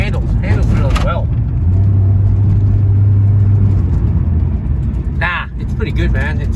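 A Holden VR ute fitted with a front-wheel-drive Pontiac engine, driving along with a steady low engine drone and road rumble, cruising at low revs while people talk over it inside the cab.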